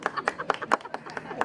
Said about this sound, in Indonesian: Tepuk tangan semua untuk Saktiawan, tepuk tangan semua.